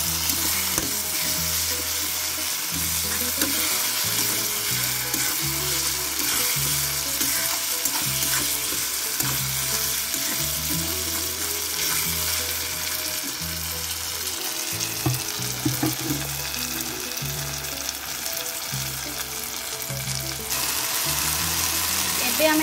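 Odisha-style Chilika crab curry frying and being stirred in a pan, a steady sizzle with repeated scraping strokes of a spoon running throughout.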